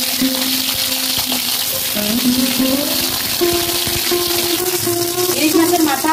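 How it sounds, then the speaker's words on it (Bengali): Hilsa fish heads fry in hot oil in a wok, a steady loud sizzle with scraping stir strokes, while a tonal melody plays over it. "কড়াইতে তেল দিয়ে দিচ্ছি ইলিশ মাছের মাথা ভাজার জন্য।"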